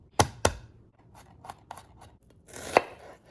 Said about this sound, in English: So we want this morel to be more finely diced